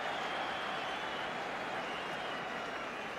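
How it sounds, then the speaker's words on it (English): A stadium crowd at a 1984 rugby match between the Barbarians and Australia in Cardiff applauds steadily, a dense, distant wash of clapping that stays even throughout with no clear voices on top. "The crowd are delighted at that too."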